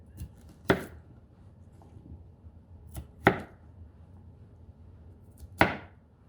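A knife chops through cauliflower on a cutting board to make riced cauliflower, giving three sharp, separate strikes spaced a few seconds apart in a quiet kitchen.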